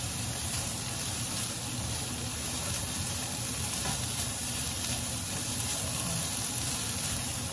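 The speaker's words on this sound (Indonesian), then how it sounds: "Wah, kita tumis sampai dia layu." Organic greens sautéing in a hot pan until wilted, a continuous close sizzle and crackle of frying that stays even and loud throughout, with no voices.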